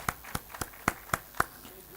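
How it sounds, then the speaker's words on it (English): A sparse run of about six separate hand claps at an even pace, moderately close, saluting the chair, Mr. R.N. Sen, at a formal ceremony. It reads as a handful of people clapping rather than a full audience. "A big round of applause for our chair"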